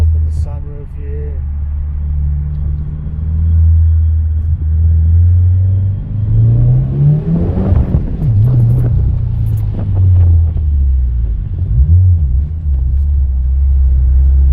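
A 2018 Subaru WRX with an Invidia R400 catback exhaust rumbles loudly from inside the cabin with the windows down and sunroof open, a deep steady drone that swells into a revving rise and settles back.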